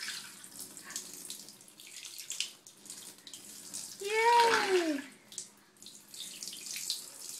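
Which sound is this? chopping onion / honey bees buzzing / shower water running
shower water running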